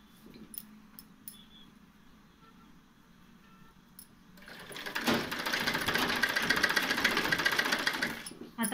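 An electric sewing machine stitches a lace border onto a saree. Quiet cloth handling and light clicks come first, then the machine starts and runs in a loud, rapid, steady whir for several seconds before stopping.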